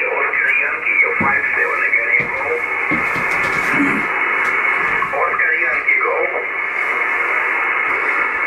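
Distant DX station received on an Icom 7300 transceiver with noise reduction engaged, giving a band-limited voice under a steady hiss and crackle that rises and fades slightly throughout.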